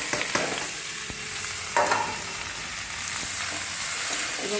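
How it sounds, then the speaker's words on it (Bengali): Okra fries in oil in a kadai with no water added, a continuous close sizzle broken by sharp scraping clatters as it is stirred, and no voices. "এবং দিয়ে এটা আমি আস্তে আস্তে ভাজবো"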